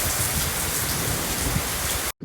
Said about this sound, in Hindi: तो बारिश और ज़्यादा आ रही है अभी।